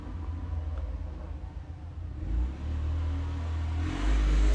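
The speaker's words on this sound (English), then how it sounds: "Tractor's just driven past, really noisy." A tractor drives past outdoors, a low engine rumble that swells as it draws near and grows louder toward the end, with no talking.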